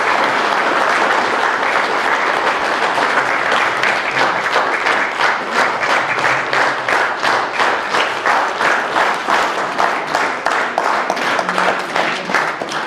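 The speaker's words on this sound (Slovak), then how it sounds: "Potlesk svedčí o všetkom." A crowd at a book presentation claps long and loud, the applause settling into a rhythmic, synchronized beat that continues steadily throughout.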